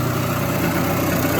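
A motorcycle engine runs inside a shed at a steady, even idle, close and continuous for the whole moment.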